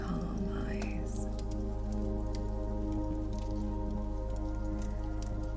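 Rain falling outside a woodland cabin, a dense steady patter of drops and drips on surfaces over a constant low hum, with no voices.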